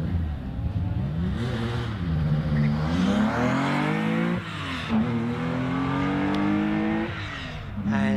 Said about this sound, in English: he's followed by Wayne Eason in the Porsche Boxster